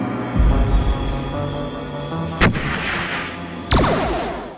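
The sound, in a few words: massive mortar firing, Star Trek sound effect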